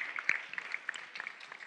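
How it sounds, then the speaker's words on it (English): Audience applause at a keynote talk, a steady patter of many hands clapping heard somewhat faint and distant, without voices. "give them a round of applause"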